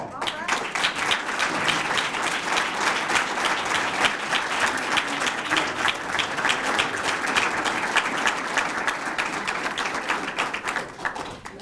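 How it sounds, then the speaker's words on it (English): Audience applause at a police chief's retirement party, a long, sustained round of clapping with crisp individual claps standing out, steady throughout and easing slightly at the end, with some voices under it. "Give this man a round of applause."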